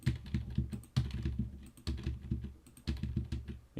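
Quick bursts of typing on a computer keyboard, soft clicky keystrokes in short runs with brief pauses between them, close and fairly quiet with no speech.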